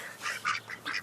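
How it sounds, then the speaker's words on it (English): Several farm ducks quack in short nasal bursts, about four calls in quick uneven succession, fairly close and clear, without voices. "Hey, Farmer Jim, why don't you go over and show us who's who over here with our ducks?"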